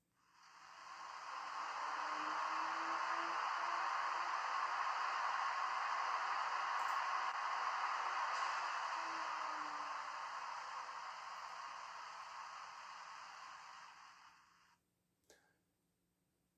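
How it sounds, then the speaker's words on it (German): A steady broadband whoosh of a cooling fan from a Märklin V90/294 diesel locomotive model with an ESU LokSound 5 decoder runs for a long stretch, swelling in gradually and cutting off abruptly, followed by a faint click. "Dann haben wir auf der 4 den Lüfter."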